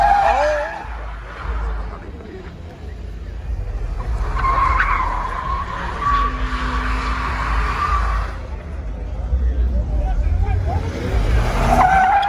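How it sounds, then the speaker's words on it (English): Tires squeal and skid through a long car burnout at a nighttime car meet, a sustained shrill screech with engine roar that rises and falls over about twelve seconds, crowd voices talking underneath. "Everybody gonna burn out tonight, bro."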